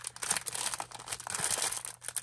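Plastic packaging around a handmade paper flower collection crinkles and crackles up close, a quick run of rustling and tearing noises with no talking.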